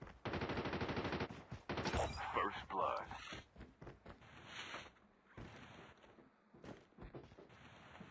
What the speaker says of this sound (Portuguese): parece mesmo agora som de arma real, né?